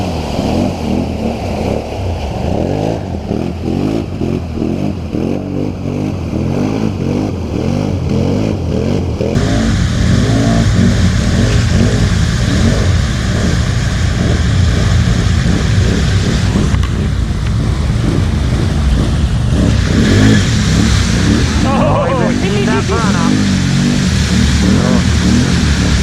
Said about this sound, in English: here comes the trail bike